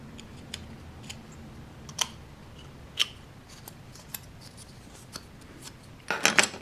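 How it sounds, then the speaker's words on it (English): Scrap metal bits having their edges deburred, heard as a series of light, sharp scraping ticks spaced about a second apart, ending in a brief busier burst of rasping strokes. "So I'll do just deburr the edges."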